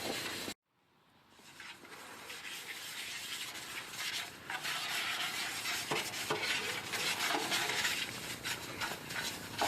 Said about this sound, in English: When you're using these stones, you generally want to use a circular motion so that you don't put a rocker bottom on your stone